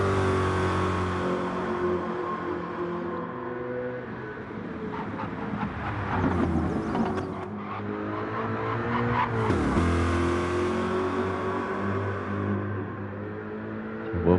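Coca-Cola Corvette race car in a racing video game, engine droning steadily at high revs with gear changes and rising pitch sweeps, loud and continuous throughout.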